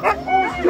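A sled dog gives short yelping barks at the start of a stage of La Grande Odyssée sled-dog race in La Chapelle-d'Abondance, heard close and brief while a commentator speaks over it.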